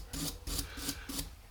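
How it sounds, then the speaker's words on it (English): A wire brush scrubs thick crinkle paint off a nut on a Harley-Davidson starter motor, four rasping strokes in a steady back-and-forth rhythm, close and fairly loud with no talk. "Just going at it with a wire brush. This coating it's quite thick."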